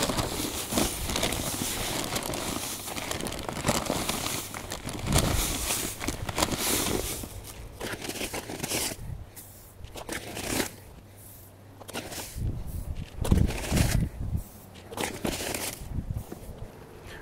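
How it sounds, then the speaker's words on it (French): Grass seed of different varieties is mixed by hand for sowing a new lawn, a dense continuous rustling and pattering of loose seed, close and fairly loud, with gentler shuffling passages and no talk. "toujours bien mélanger les semences, surtout quand il y a différentes variétés"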